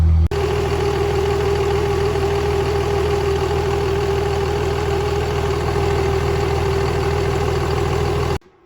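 A Cummins diesel engine runs at idle after a fire ring head gasket install, a loud, steady, close mechanical rumble with slight shifts in pitch as the RPM changes, ending abruptly.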